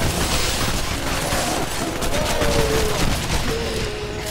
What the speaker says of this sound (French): Oh ouais, il y a la mitraillette.